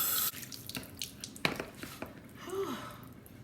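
Water runs from a tap to wet someone's hair at a sink, a soft splashing flow with small drips and bumps, fairly faint and close.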